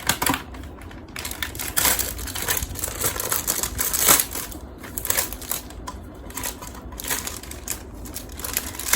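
A makeup organizer bought at an Eco Shop is unpacked, with close, irregular crinkling and rustling of plastic packaging and scattered sharp clicks and taps, fairly quiet and with no talking.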